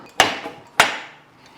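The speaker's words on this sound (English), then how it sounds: "And then we'll just slide hammer this up and off" Two sharp metallic impacts about half a second apart from a slide hammer pulling parts off a motorcycle fork tube, each ringing briefly before fading, close by with nothing else around them.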